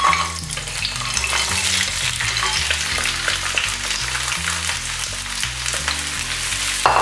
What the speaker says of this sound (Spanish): Empezamos poniendo un fondo de aceite en una sartén y vamos a saltear el pisto.